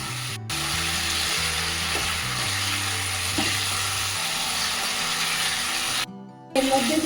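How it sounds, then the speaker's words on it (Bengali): Cauliflower and potato frying with spices in a pan, a steady close sizzle running throughout with occasional stirring scrapes, briefly cut off near the end before resuming. "আমি এবার ভালো করে এটাকে কষে নেব ভালো করে। আলুর সাথে কপির সাথে মশলাটাকে দিয়ে।"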